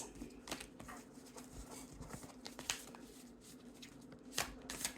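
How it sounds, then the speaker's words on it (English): Tarot cards shuffled by hand in a soft, steady riffle of papery flicks and slaps, with a few sharper snaps standing out, close and fairly quiet with no talking. "I'm going to shuffle one more time"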